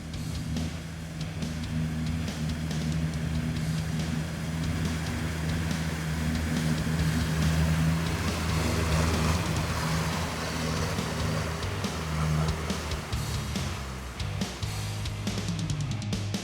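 A Sherp ATV with a 1.5-liter, 44 HP Kubota turbo diesel drives on a good road, giving a steady mid-distance engine drone and rolling rumble that holds even for the whole stretch, with no talk.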